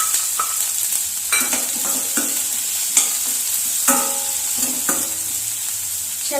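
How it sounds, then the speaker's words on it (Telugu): Onions fry and sizzle in hot ghee for a curry, with steady crackling under repeated stirring and scraping strokes in the pan, close and continuous with no talking. "ఇదే ఘీలో మనం ఆనియన్స్ని ఫ్రై చేసుకుందాం."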